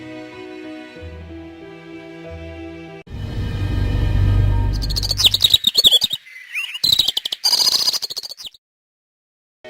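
A parrot chirps and tweets in a quick run of bright, close calls, breaking off and returning in bursts after a low rumbling wind-like passage and a steady tonal music bed.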